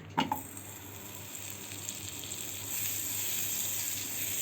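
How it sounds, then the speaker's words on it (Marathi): Butter melts in a pan for a Marathi thecha paratha, starting with a brief clatter and settling into a soft, steady sizzle that thickens toward the end. "इकडे मी पॅन घेतला आहे त्याच्यामध्ये आपण आता बटर घालून घेऊ"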